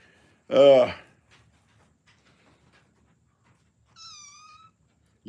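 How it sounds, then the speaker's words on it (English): Small kittens meow twice: first a loud, close, drawn-out cry, then after a quiet pause a fainter, higher, wavering mew. "These little kitties."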